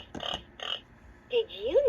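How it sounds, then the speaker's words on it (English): Pig sound from a Leapfrog Fridge Farm magnetic animal toy (2007 version): two short electronic snorts followed by a squealing oink, small and close, played back through a toy speaker. "Hear a pig sound."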